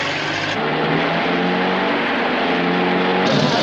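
A car engine in a 1939 detective film roars steadily as the car pulls away, a loud, continuous motor drone with a slight rise in pitch and no voices.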